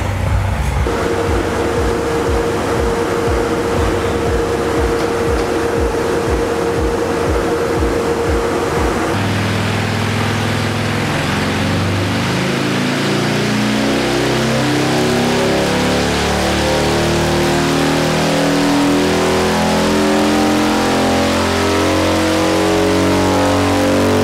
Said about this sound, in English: Now we'll start the motorcycle, let it warm up